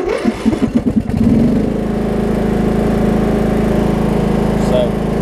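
A Toro Wheel Horse riding mower with hydrostatic drive and a Murray deck runs on a driveway, its engine settling into a loud, steady drone after a few choppy bursts at the start.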